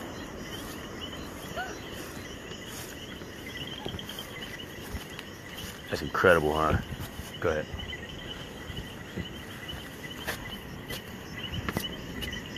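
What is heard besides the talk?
birds chirping and frogs calling outdoors in Puerto Rico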